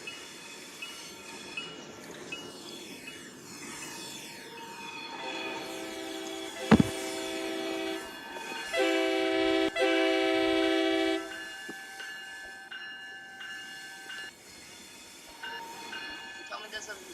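Train horns from the video game Terminal Railways blare in two long, loud multi-tone chords over rumbling rail noise, with a sharp clank between them and a person talking at times.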